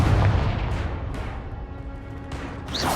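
A Confringo fire-blast spell explodes in the video game Hogwarts Legacy, a loud booming burst with rumbling low end that rolls on for about three seconds, joined by further sharp blasts and crackles.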